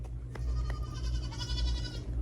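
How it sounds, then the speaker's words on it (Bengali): A sheep bleats in a village setting, a wavering nasal call rising out of low background rumble, close and fairly clear, sounding once at mid-length. "এটা ছাগল না এটা ভেড়া"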